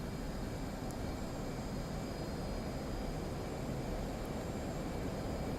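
Twin F/A-18 Hornet jet engines roar at throttle-up during a carrier catapult launch in DCS, a steady, loud, broadband rumble and hiss that holds unchanged throughout with no talk.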